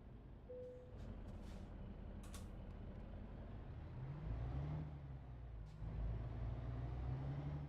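Engine drone of a truck in Euro Truck Simulator 2, a steady low rumble with a rising gear tone partway through, plus brief hissing air-brake bursts near the start, moderately loud with no talk.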